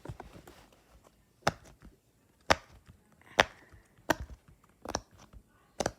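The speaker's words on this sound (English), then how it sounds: "I'm gonna show you the pop-it clicks." A pop-it fidget toy being pressed, giving about seven or eight sharp, close, isolated pops spaced irregularly with quiet between them.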